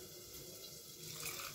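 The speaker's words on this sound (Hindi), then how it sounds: "थोड़ा सा पानी दे लेते हैं" Water running steadily from a tap or poured into a grinder jar of cumin, chilies, garlic and ginger paste for a pumpkin and chickpea curry, a continuous close splashing that swells slightly toward the end.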